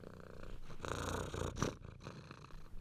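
A cat purrs up close in a soft, continuous rumbling rhythm lasting a few seconds, with a brief louder burst partway through and no talking.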